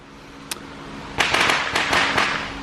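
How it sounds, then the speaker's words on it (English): Fireworks or firecrackers go off in a rapid, crackling series, one lone pop followed by a dense cluster of sharp bangs, heard outdoors at moderate distance. "And that's fireworks."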